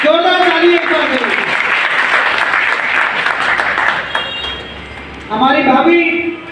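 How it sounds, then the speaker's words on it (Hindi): An audience at a market welcome event in Sadh Nagar Market, Palam Colony, breaks into loud applause between a man's announcements, which are heard at the start and end. "भाई साहब का स्वागत करते हैं बाजार की तरफ से, जोरदार तालियां।"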